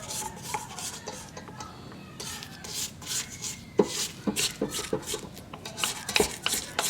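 A spatula scrapes down the sides of a mixing bowl of cookie dough in a series of close, rubbing and scraping strokes with light knocks against the bowl.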